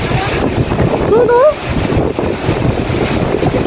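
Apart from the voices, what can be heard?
strong wind and heavy rain outside an open window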